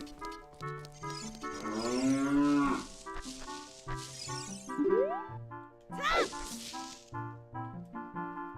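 Cows mooing in The Legend of Zelda: Ocarina of Time, several loud drawn-out game moos over a looping game music track, with rising sweeping tones between calls, no talk.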